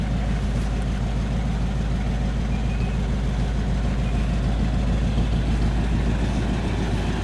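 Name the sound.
1953 Cadillac Eldorado engine revving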